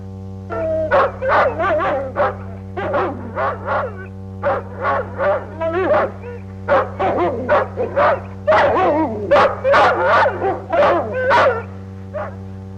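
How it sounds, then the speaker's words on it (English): A team of sled dogs in the Yukon barks, yips and whines nonstop, a loud, overlapping chorus of sharp calls repeating in quick bursts, close up over a steady low hum. "Dogs make much noise."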